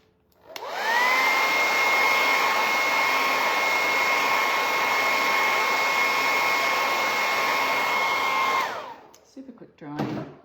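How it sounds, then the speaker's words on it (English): A hair dryer blows over freshly stenciled background paint, a loud steady whirring drone for about eight seconds that then cuts off, followed by a few brief handling knocks. "I want to make sure that my background is very dry."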